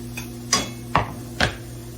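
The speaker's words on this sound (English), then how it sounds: "I'm going to add those to the skillet" Mushrooms dropped into a skillet in a home kitchen, giving three distinct clattering thuds spaced about half a second apart, close and moderately loud over a faint steady background hum.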